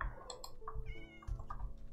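A cat meows several times in quick succession, short and slightly strained calls, fairly quiet and close, with light background sound between the cries.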